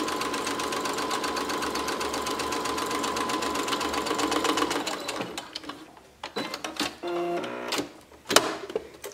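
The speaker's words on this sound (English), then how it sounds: "I'm making sure that I'm sewing all the layers together as I'm stitching here" A sewing machine stitches through the layers of a Christmas stocking in a fast, steady, close mechanical chatter for several seconds, then stops, followed by scattered clicks and handling noises.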